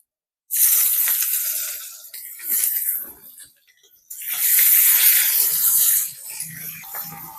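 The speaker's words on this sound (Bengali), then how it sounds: "গোটা গরম মশলা আর কিছু গোটা জিরে এখন দিয়ে দেবো পেঁয়াজ কুচি" Chopped onion hits hot oil already tempered with bay leaf, whole garam masala and cumin, bursting into loud, close sizzling hisses in two long surges separated by a brief lull.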